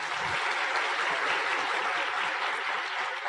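Steady, dense applause from a seminar audience at an Indonesian motivational business talk, a continuous wash of clapping held at even level throughout.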